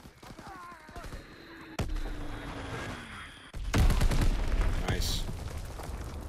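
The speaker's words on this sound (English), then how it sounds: "Dropping Fritz X bomb." A Fritz X bomb dropped in a Call of Duty game, heard as booming blasts and a rolling explosion with crackling debris, with brief speech over it.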